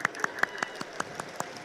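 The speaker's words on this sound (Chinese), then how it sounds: "先给书义掌声鼓励好不好？" A crowd at a CTBC Brothers baseball event claps for player Lin Shu-yi in a crisp, evenly spaced rhythm of about five claps per second, moderately loud, with no talking.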